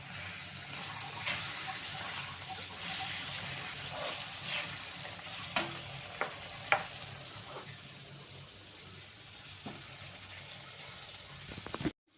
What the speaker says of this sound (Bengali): আমি এখন আলু দিয়ে দিব।